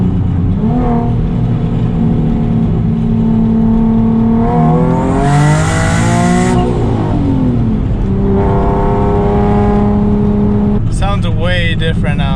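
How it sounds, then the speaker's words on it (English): A tuned, turbocharged Nissan Z with a broken transmission revs hard on a dyno. The loud, close engine note climbs and falls through several sweeping pulls, with one sharp peak in the middle. Whooshes from the turbo and wastegate come through, and brief sounds at the end. "the wastegates sound different, the turbo sounds different, the motor sounds different"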